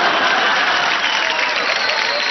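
A comedy show audience claps steadily, a dense, even wash of hands that holds at full strength for a couple of seconds with no talk over it.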